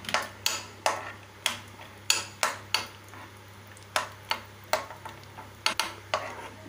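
Cashews stirred in ghee in a frying pan, with a spoon striking the metal in sharp, evenly spaced clinks about twice a second over a faint background hum.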